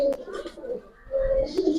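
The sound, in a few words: pigeons cooing, fancy-headed boot-beaked pigeons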